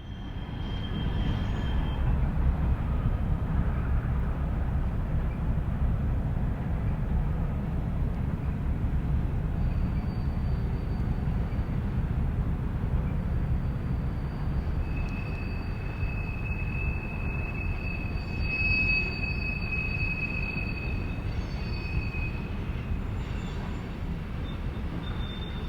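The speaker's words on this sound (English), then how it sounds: "NS 57K brings a grain train toward Bellevue." A Norfolk Southern grain train rolls past in Ohio, a steady, loud rumble of wheels and cars that holds for the whole stretch, with faint high squeals drifting in and out toward the end.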